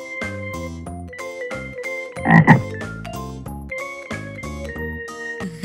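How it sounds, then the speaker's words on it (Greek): A frog croaks in a short burst of ribbits partway through, set over a bright, steady children's song in an educational alphabet lesson. "Βάτραχος."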